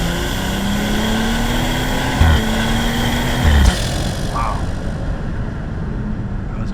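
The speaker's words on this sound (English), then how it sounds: "Ooh, that intake is loud." A BMW's engine intake roars loudly as the car revs under way, a steady drone with a couple of brief louder surges, while a voice briefly exclaims over it.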